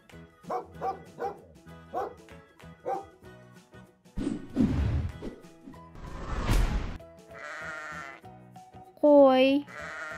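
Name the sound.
sheep bleating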